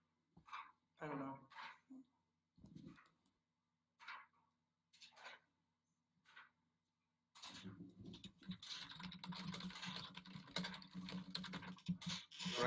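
Clacky computer keyboard typing comes from a gamer during a League of Legends match, with sparse short bursts at first, then a dense rapid stretch of loud key clatter, and voices can be heard in places.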